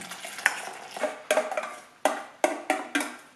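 Rice stirred into a pot of miso porridge, a series of about eight sharp scraping clinks of a utensil against the pot, close and fairly quiet, with no talk.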